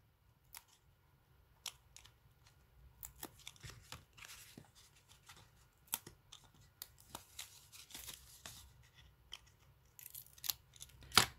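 Scattered crisp crackles and rips as protective backing is peeled and torn off a handmade card, close and intermittent with quiet pauses and a sharper tear near the end.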